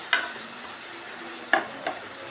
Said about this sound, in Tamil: வெங்காயம் தக்காளி வெந்துக்கிட்டு இருக்கு, வேகட்டும்.